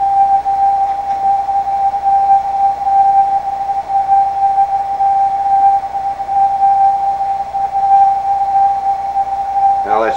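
Output from a Bedini gravity wave detector: a steady, loud electronic tone holding a single pitch with faint harmonics and a low hum, shifting into a warbling sound at the very end.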